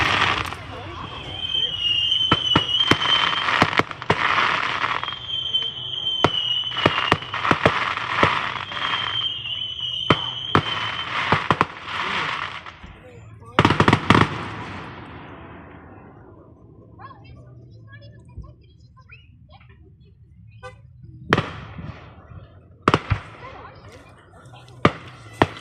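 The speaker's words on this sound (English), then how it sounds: "to show them the fireworks" Fireworks from a home display pop and bang in sharp, scattered bursts, dense early on and then isolated cracks near the end, with people talking over the first half.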